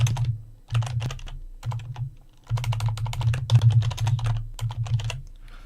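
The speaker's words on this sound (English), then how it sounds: "That's me typing currently." Bursts of keyboard typing, quick irregular clicks in clusters separated by brief pauses, close by over a steady low hum.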